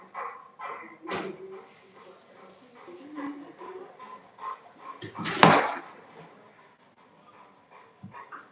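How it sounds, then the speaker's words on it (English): A dog at a Great Pyrenees grooming session gives a few short barks and yips amid people talking, with one loud close bark standing out midway. "Recognize that dog."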